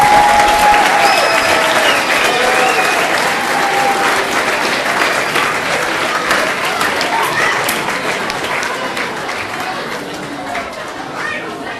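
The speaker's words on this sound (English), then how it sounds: "let's give them another round of applause for that song" An outdoor crowd at a town's 150th anniversary celebration applauds children after their song, steady dense clapping and cheering lasting the full stretch and fading slightly at the end, with some chatter mixed in.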